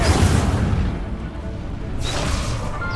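Incendio, the fire spell in Hogwarts Legacy, goes off as a loud, close roaring blast that fades briefly and then swells again into a second rushing whoosh.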